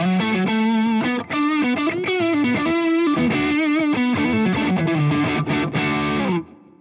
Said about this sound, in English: That sounds really good. And the neck pickup.